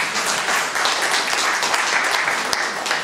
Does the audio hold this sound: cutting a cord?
no